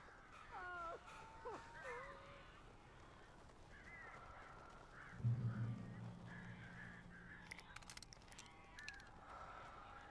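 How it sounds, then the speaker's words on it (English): Crows cawing in the Alan Wake video game, a few harsh calls close by at the start and again later, over a faint ambient background with a low rumble in the middle. "These birds are weird."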